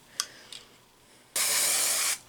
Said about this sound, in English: spray our hair green